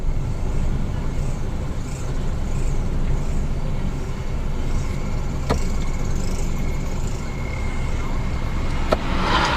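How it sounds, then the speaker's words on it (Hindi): A Gypsy jeep approaches along a jungle road at night, a steady engine and tyre rumble that stays broad and even throughout, with a faint sharp knock late on. "जिप्सी आती हुई,"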